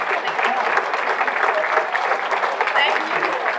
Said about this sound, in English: give yourselves a round of applause for this health improvement plan